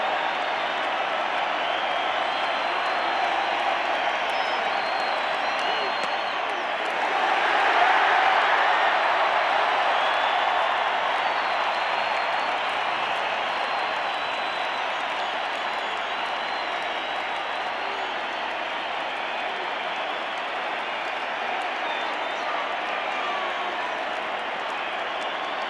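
A large crowd at a 1987 World Series baseball game in the stadium, Cardinals at Twins, applauding and murmuring steadily throughout, swelling briefly early on before settling back to a broad, sustained roar of clapping and crowd noise.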